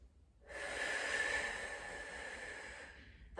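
Slow, deep breath drawn and released through the nose while holding a plank in a core workout for runners, one long steady airy breath close to the microphone, with no talking.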